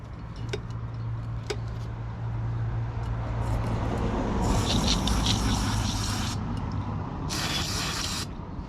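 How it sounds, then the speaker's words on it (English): Brake cleaner sprayed from an aerosol can into a Subaru intake during an injector and intake reinstall, heard as close hissing bursts over steady background rumble, with two longer sprays in the second half. "Give it a quick blowout with some brake clean."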